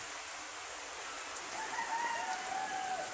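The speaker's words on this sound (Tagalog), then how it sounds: "Grabe, lakas ng ulan" Steady hissing rain pours down, a dense wash of sound with a faint high tone drifting through it.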